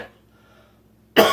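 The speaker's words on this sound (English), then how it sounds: "I don't know why I'm coughing so much" A man gives a single sharp, loud cough at the very end after near silence, close to the mic.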